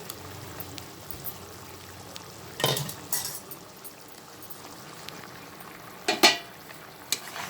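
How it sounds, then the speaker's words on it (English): Chicken keema with fried potatoes being stirred in a pot, a quiet simmering background broken by a few short scraping, clattering bursts of the spoon against the pot. "Give it a nice stir."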